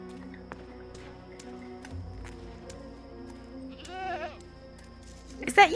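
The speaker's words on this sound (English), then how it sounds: "Is that you sounding a lot like a goat?" A goat bleats in the Dreamfall Chapters video game, a short wavering cry rising above quiet ambient game sounds, followed by a louder brief burst at the very end.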